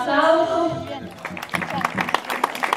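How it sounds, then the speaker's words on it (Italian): Audience applause at a historical pageant in Santa Lucia del Mela, a burst of scattered clapping following a voice, fairly close and moderately loud. "un applauso"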